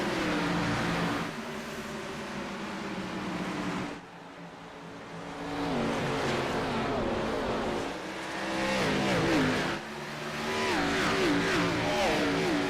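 Race cars in iRacing at Richmond, several engines roaring at full throttle over a continuous mechanical drone with rising and falling pitch as cars pass, loud throughout with a brief dip in the middle.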